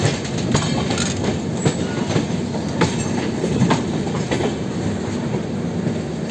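A Rajdhani Express special AC 2-tier train rumbles over a diamond crossing, its wheels striking the rail gaps in a rapid, irregular clatter of sharp knocks above a steady low roar, heard close from inside the coach.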